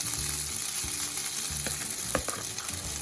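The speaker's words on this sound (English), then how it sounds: "I'm going to just put these potatoes in the skillet" Potatoes fry in hot oil in a skillet with a steady, fine sizzle and a few soft scrapes and knocks of a utensil, close and moderately quiet.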